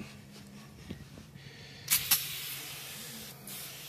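Oven cleaner foam sprays onto a dirty BMW tire in two short, sharp hissing bursts, followed by a steady soft hiss of foam settling over quiet background.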